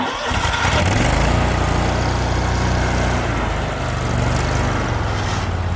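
A John Deere 920M commercial zero-turn mower engine starts and settles into a steady, loud idle close by, its rumble continuous throughout with no talking.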